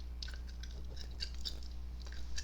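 Close, soft gum chewing with small moist clicks and snaps scattered irregularly over a low steady hum, quiet and intimate, with no talking.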